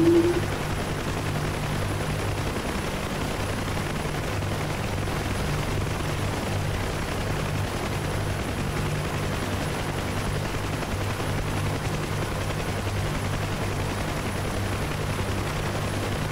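A UH-1H helicopter in the DCS flight simulator, its rotor and engine droning in a steady, loud, unbroken hum from start to finish.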